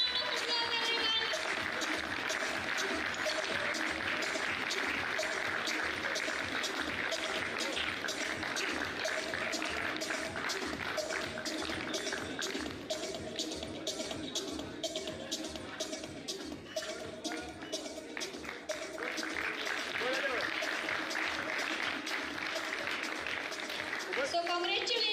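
Crowd applause at the Compounding Experts Meet 2024 award announcement, a dense, steady clapping wash lasting throughout at even loudness.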